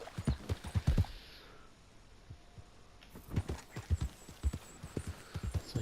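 Horse hooves clip-clopping at a walk in the video game Red Dead Redemption 2, close and rhythmic, pausing briefly in the middle before resuming, with a short whinny-like snort mixed in.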